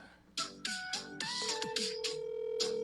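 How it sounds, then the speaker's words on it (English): Phone ringback tones and digital beeps from a wireless call placed to an unavailable number, a series of short electronic tone bursts ending in a long steady tone, clear and close with no talking. "Santa Claus, please pick up. He's going to send us to voicemail."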